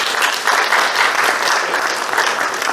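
Steady, full applause from a crowd at an awards ceremony, dense clapping sustained at an even loudness throughout.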